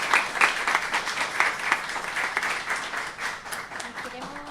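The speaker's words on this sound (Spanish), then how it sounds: "Un aplauso para nuestro invitado." Audience applause for a podcast guest at the close of a Spanish-language episode on women in the social sciences, a dense, steady wash of many hands clapping at moderate distance, sustained without letup and with no voices over it.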